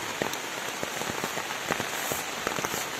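Rain outdoors at dusk during a wild boar hunt in Indonesia, a steady broadband hiss with irregular crisp drop taps landing close by, moderately loud and without speech.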